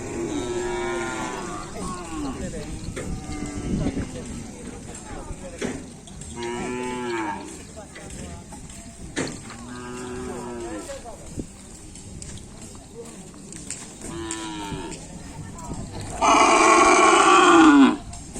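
Racing bulls at a Karapan Sapi training session in Pamekasan moo repeatedly, several drawn-out calls at a steady pace, with a louder, brighter bellow near the end; people talk faintly in the background.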